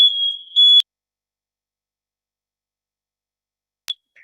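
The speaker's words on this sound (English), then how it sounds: "Sorry, there's a smoke alarm, if you can hear that." A smoke alarm gives a loud, piercing high-pitched beep, then silence, then a brief chirp a few seconds later.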